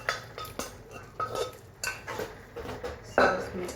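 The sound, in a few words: stirring boiled chana dal into cooked spinach in pot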